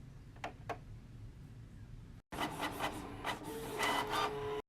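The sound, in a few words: printer printing a template onto digital paper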